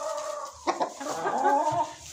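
Chickens and roosters in a backyard flock clucking close by in a short burst of overlapping calls, moderately loud and without talk.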